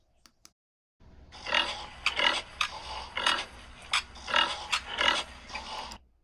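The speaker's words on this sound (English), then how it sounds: "Grunted the pig" A pig grunts and snorts in a run of rough, closely spaced bursts, loud and near, with no other sounds around it.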